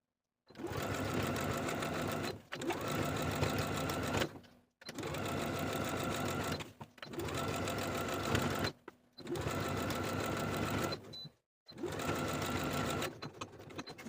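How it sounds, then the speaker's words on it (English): Sewing machine stitching in the ditch along the binding of a summer romper, running in six long steady bursts of a few seconds each with short pauses between, close and clear with no talk. "Then we'll stitch in the ditch from the underarm of one bodice piece all the way across the strap, stitching those edges together"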